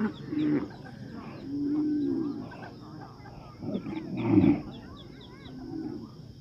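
Water buffalo give several low, drawn-out lowing calls spaced across the stretch, moderately close, with faint bird chirps and outdoor ambience in the background.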